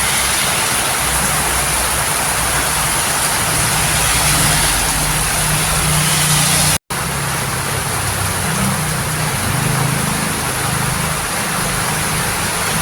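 Steady, dense roar of heavy rain pouring continuously, loud and unbroken, with a brief dropout midway.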